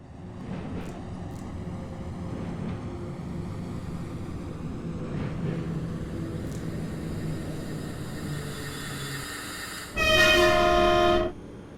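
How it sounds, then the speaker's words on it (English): Rhaetian Railway GE 4/4 III electric locomotive on the metre-gauge Albula Line in Train Simulator, a steady low running rumble with faint clicks, then a loud sustained horn blast near the end. "this route only includes one form of motive power, namely the Rhatische Bahn GE 4/4 Mark III electric locomotive"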